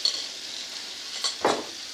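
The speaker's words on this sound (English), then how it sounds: "So I'm going to get that sizzling away." Clarified butter sizzles in a frying pan with a close, bright crackling hiss, broken by a couple of brief stirring scrapes near the end, no voices.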